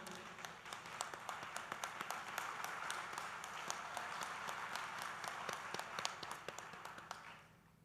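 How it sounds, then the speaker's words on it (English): Applause for parents at a university convocation in Dubai, a sustained dense crowd clapping heard from a distance with occasional sharper claps, fading out at the close. "A hearty round of applause to the parents of the graduating students."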